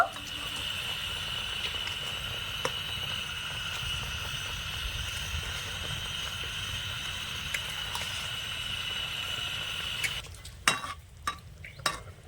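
Raw mango murabba in sugar syrup cooks uncovered on a medium flame, giving a steady low bubbling sizzle; near the end a few sharp clinks and scrapes of a utensil against the pan break in.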